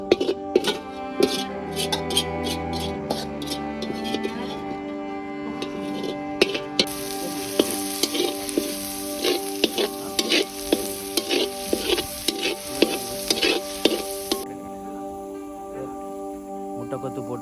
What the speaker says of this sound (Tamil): நல்ல முட்டை கொத்துண்டு போட்டு கொண்டு இருக்கிறோம்